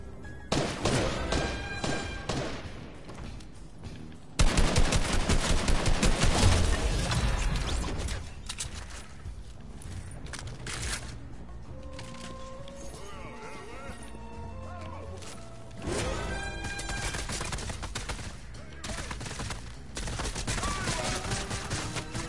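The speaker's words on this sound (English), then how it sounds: "How are they shooting through the fucking floor, man?" Video game gunfire from a PS4 shooter, with enemies firing through the floor: repeated bursts and cracks of shots with crashes, loud throughout and mixed with a busy game soundtrack and a player talking over it.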